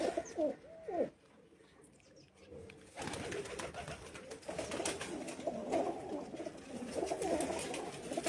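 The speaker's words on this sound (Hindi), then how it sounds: "घर का कबूतर है।" Domestic pigeons coo on a rooftop, soft rolling calls repeating close by, with a brief quiet gap before the cooing returns denser and steadier.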